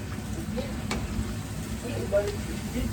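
Oysters stir-fried with oyster sauce in a pan, giving a steady close sizzle and frying crackle with faint stirring scrapes as they are mixed.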